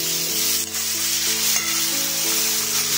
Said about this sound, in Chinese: 先大火翻炒，把它的水分炒干